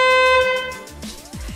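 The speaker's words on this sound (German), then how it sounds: "Und die Hupe muss funktionieren." A Honda Jazz's horn honks with a steady, loud tone for about a second during a pre-inspection check, then cuts off, followed by low rumbling and a short whoosh.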